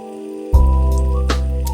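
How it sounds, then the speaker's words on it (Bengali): A cabbage roll slides into lightly heated oil at medium heat and starts to sizzle at once after a short silence, then holds a steady close crackle. "তেলটি হালকা গরম হয়ে আসলে তারপরেই রোলটি এর ভিতরে দিতে হবে।"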